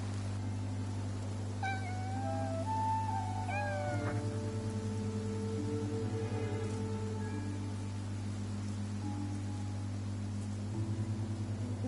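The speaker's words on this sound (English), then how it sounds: "that cat that just passed by stopped making any sound" A cat in the video game Infinity Nikki gives a few short meows, moderately clear over a steady low electronic hum and game background noise.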